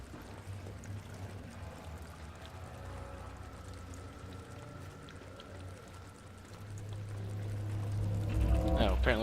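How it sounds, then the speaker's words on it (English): Water flows steadily in a dark room in the horror video game Amnesia: The Dark Descent, a continuous pouring rush with low ambient rumble beneath it. "There's some water in here."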